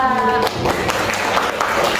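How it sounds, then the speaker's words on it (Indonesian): A classroom audience claps for a presenting group during a teacher-training session, with scattered, uneven hand claps running under a speaking voice. "tepuk tangan buat kelompok 2"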